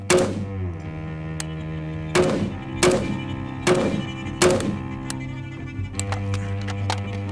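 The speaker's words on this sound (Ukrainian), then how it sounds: "Зараз йдемо повторювати серію з пострілів." A series of sharp, heavy Kalashnikov (AK) rifle shots while sighting in the rifle, about five spaced a second or so apart, each with a booming echo, plus faint clicks between.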